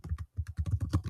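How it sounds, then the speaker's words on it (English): Rapid keystrokes clatter on a computer keyboard, a close, steady burst of about a dozen taps with one brief pause. "And type a description of the image."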